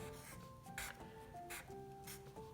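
A pen scratches across paper drawing a book title, short rubbing strokes in bursts between pauses, faint and close beneath quiet background music.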